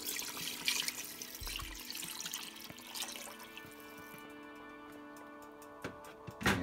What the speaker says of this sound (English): you're going to add in your water for the next pour